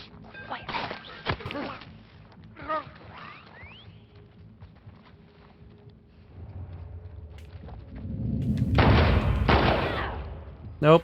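Gunfire in The Last of Us Part II, a few sharp close shots early on, then quieter rustling and a louder rumbling burst later, with a brief voice at times.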